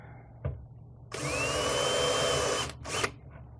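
Cordless drill starting a hole for a boat underwater light, one short whining run of about a second and a half with a rising motor pitch, then a brief second burst, close and alone.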